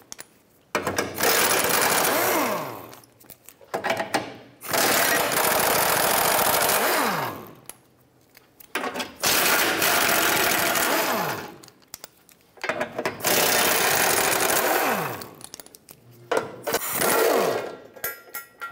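Power tool, likely an impact wrench, removing four 15 mm bolts and two nuts from a brace on a 2013-2019 Ford Escape during front catalytic converter work; several loud, sustained bursts separated by short pauses, close up with no talking.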